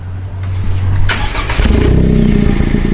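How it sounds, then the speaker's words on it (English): Honda Si engine with a Yonaka Motorsports exhaust idling, then revving up sharply, its loud raspy note rising and holding close by. "it's already warm and you can rev it now."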